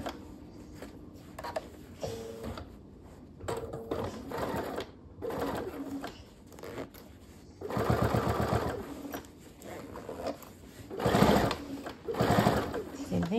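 A sewing machine stitches fabric in short, stop-start bursts of fast mechanical rattling, close by, with a voice talking over and between the runs.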